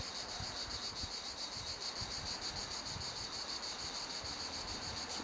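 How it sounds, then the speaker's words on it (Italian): Cicadas in trees beside an apartment balcony in Italy, a continuous shrill chorus at a steady level, with faint low traffic rumble underneath. "Questi sono gli alberi pieni di cicale."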